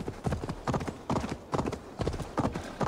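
Horse hooves clip-clop in a steady, brisk rhythm of paired beats on rough, off-road ground in the video game Assassin's Creed Valhalla, close and clear, with game-like sound effects and no voices.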